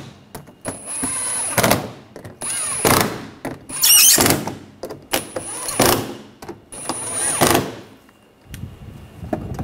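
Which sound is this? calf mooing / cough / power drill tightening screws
power drill tightening screws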